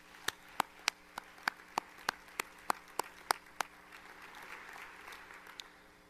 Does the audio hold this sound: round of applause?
yes